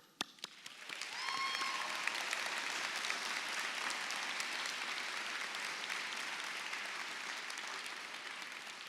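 Audience applause fills an auditorium at a medical school commencement ceremony, rising quickly after a few scattered claps into sustained, dense clapping from a large crowd that continues steadily to the end.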